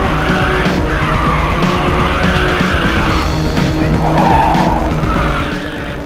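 Tires squeal and skid continuously as a race car drifts around a bend in a racing video game, loud and sustained with an engine drone underneath.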